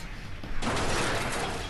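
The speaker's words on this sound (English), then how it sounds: "Oh, they shooting RPGs" RPG rockets fired in a battle-royale video game: a sudden sharp blast that swells into a dense, sustained roar of gunfire and explosions, loud and close, with no talking.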